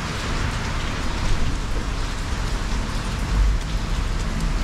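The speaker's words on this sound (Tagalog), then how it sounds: "Ulan." Steady rain falls on an Auckland city street, a continuous dense patter of drops on hard surfaces that holds at an even, fairly loud level throughout, with no voices.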